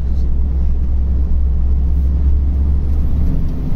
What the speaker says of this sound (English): So here we go, this is a 510, loaded up, 44 tonnes, joining the motorway in performance mode.